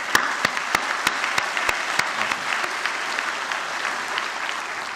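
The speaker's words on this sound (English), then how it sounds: "Give yourselves a round of applause." Graduates at a Mohawk College convocation applaud together, a dense, steady round of clapping with sharp individual claps standing out, sustained evenly throughout.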